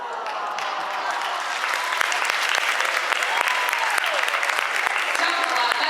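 A live audience at a stage show breaks into dense, sustained applause that swells slightly and holds for several seconds, many hands clapping together at moderate distance with no voice over it.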